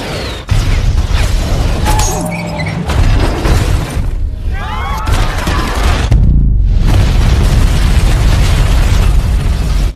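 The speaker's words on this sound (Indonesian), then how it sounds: "Kemudian terjadilah adu tembak di sini." Loud, dense gunfight from the action film 3 Days to Kill: sharp booms and blasts, crashing impacts and shattering, with a brief lull midway before the chaotic barrage resumes.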